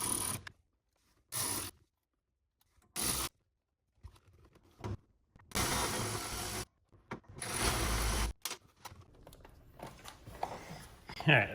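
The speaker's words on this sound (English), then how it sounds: "I pulled the blue tape off" Blue tape is pulled off a BMW E46 convertible's front door panel in a few short scraping, rubbing bursts, close and fairly quiet, with pauses and a little speech between them.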